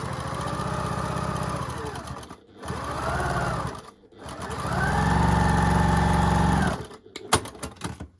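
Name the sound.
sewing machine stitching quilt seam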